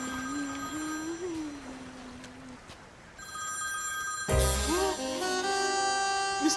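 A telephone rings in a Tamil film scene, repeating its bell tone loudly and close by after a quieter stretch with a faint tone.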